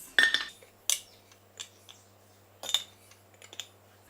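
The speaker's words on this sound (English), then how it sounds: "Bring them all over and give them a good chop before we toast them" A knife chops an assortment of nuts for granola, producing a few sharp, separate knocks on a board with short gaps between them, close and fairly quiet.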